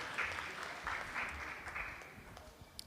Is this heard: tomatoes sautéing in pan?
no